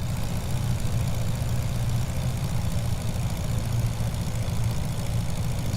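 A small airplane's piston engine, without carburetor heat, drones at reduced power during a slow descent, a steady close rumble with no voices.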